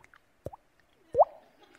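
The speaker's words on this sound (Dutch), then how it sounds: "Ag, daai kraan wat drup." A dripping tap lets water drops fall in two separate plops about a second apart, close and quiet against near silence.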